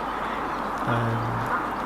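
A domestic duck gives a drawn-out quack on a country park pond, set against a steady outdoor background of water and ambient noise.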